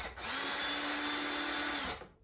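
Cordless power drill backing out the screws of a wall light switch plate, one steady high whirring burst lasting about two seconds, close and fairly loud, then stopping.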